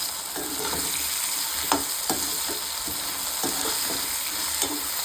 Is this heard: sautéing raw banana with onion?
yes